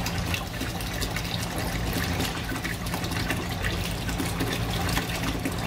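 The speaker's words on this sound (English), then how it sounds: "This just gets all the old water out of the hose." RO water running from a hose while purging the line at a reef aquarium setup, a steady close rushing and splashing of water, continuous and alone.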